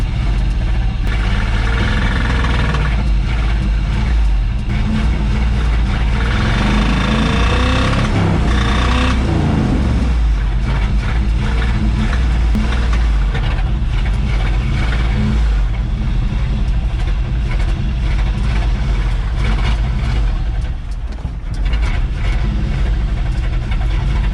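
A 1976 Chevrolet Scottsdale K20 4x4 truck with a Holley carburetor, abandoned for 20 years, runs rough with fuel trouble: a loud, uneven close-up engine rumble that surges and sags in unsteady revs throughout, with no speech.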